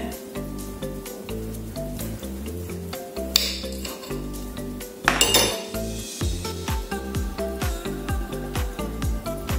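Knife and fork clinking and scraping on a plate while a parsley and coriander meatball with African spices is cut open, a steady run of close metallic taps with one louder clatter midway, over soft background music.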